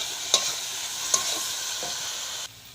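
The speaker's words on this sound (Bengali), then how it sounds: "সিমটা দিয়ে একটু নেড়ে চেড়ে নেব" Flat beans with onion and fish being stirred as they fry in a pan: a steady sizzling hiss broken by two or three brief utensil clinks, close by, with no voices.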